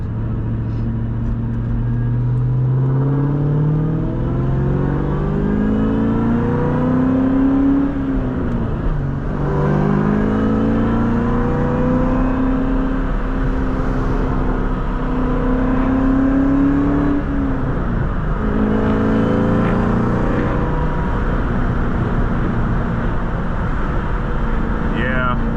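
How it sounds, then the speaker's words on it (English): A 500hp Terminator Cobra engine idles and revs in cold weather, a loud steady mechanical drone with rising and falling pitch sweeps that stays close and continuous throughout. "You hear the way that engine is singing, bro?"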